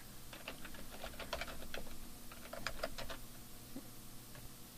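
Typing on a Macintosh computer keyboard, a steady run of soft, quick key clicks in irregular bursts, close and moderately faint, with no talking.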